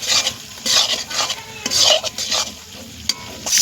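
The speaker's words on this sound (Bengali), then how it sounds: "এবার এটা দিয়েও ভালো মতো মশলাটা কষিয়ে নেব।" Chopped tomato and spice masala for chicken ghugni is vigorously stir-fried, a spatula scraping the pan in loud, close bursts over a bright, crackling sizzle.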